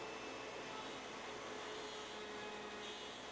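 A CNC router cutting a relief pass on the pins of a half-blind dovetail in a 48 by 96 plywood sheet, heard as a steady, loud whine and hiss, continuous and unbroken with no talk.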